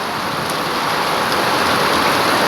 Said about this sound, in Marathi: खूपच जोरात पाऊस येतोय, खूपच जोरात, म्हणजे पावसाळ्यासारखा पाऊस येतोय